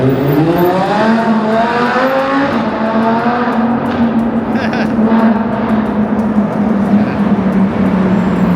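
A car engine revs hard on a road near a hill funicular, a loud sustained drone that climbs and then holds steady, passing close by.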